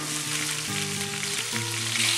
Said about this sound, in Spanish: aquí en este mismo aceite vamos a empezar a rehogar nuestro pescado